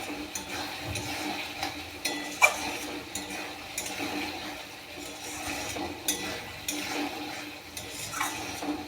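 Potatoes and pointed gourd are stirred in a cooking pot, giving soft, intermittent scraping and clinking strokes at close range, with a few sharper knocks and no voices.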